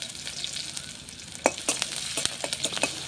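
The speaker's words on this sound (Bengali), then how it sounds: "এখন হচ্ছে আমি আদা কুচি আর হচ্ছে রসুন দিয়ে ভালো করে আর কি ভেজে নেব।" Chopped ginger and garlic frying in a pan over a village clay stove, a steady hiss of sizzling broken by sharp crackles and pops that grow busier toward the end, close and alone.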